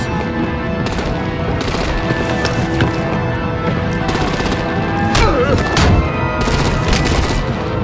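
Gunfire and artillery ring out in the Batman: The Enemy Within video game, with dense rapid shots and sharp cracks over a loud, continuous battle backdrop, heaviest in the later seconds.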